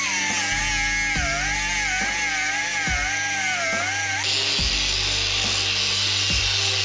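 Cutting through a metal part from an RV trailer's weight distribution hitch with a power tool, a loud steady whine with a tone that wavers and then shifts midway, plus a few sharp knocks, up close and without talk.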